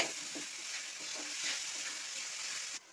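Tomato with turmeric and salt frying in a pan, a steady sizzle under soft intermittent stirring scrapes at close range, stopping abruptly near the end.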